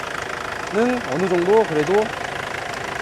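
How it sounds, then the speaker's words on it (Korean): An older Kia New Sorento diesel SUV idles with the engine bay open, a steady low chugging hum under someone talking in Korean. "이 소렌토 특성이 정말 엔진 소리가 굉장히 큽니다."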